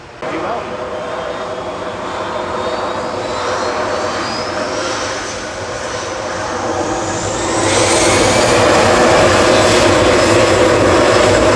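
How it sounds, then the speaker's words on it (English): An air tanker aircraft departs Manchester Airport, a loud, steady jet roar that swells and rises toward the end, heard at close range with a voice talking faintly beneath. "we've just had one air tanker go and the other air tanker is pushing back"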